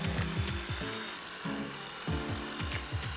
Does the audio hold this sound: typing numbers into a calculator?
no